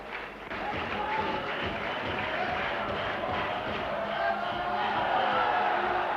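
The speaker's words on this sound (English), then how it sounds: "with the crowd just on the edge of their seats and applauding" Cricket stadium crowd at a 1990 India versus Pakistan one-day match, a broad, steady wash of applause and cheering that swells slightly and holds for several seconds at a distance.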